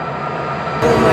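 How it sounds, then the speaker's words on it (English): A train rushes past in the BeamNG driving game, a steady loud rumble of rolling wagons that swells suddenly louder partway through as it draws close. "Oh my god, train!"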